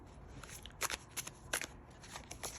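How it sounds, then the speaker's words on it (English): A deck of black-and-white playing cards being shuffled by hand: soft riffling texture punctuated by a few sharp snapping bursts, quiet and close, with no voices. "go ahead and shuffle it now"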